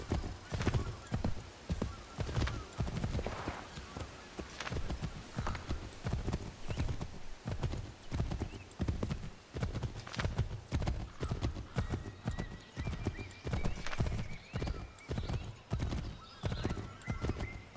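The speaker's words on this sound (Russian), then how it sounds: "Ну, лошадки-то вроде быстрее" Horses in Assassin's Creed III gallop with steady, rapid hoof clip-clops throughout, joined by occasional whinnies and neighs, loud and close in the game mix.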